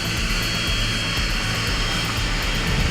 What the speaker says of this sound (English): Aircraft in shuttle, catapult in tension